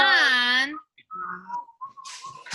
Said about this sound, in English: who was whistling? Yeah, stop whistling.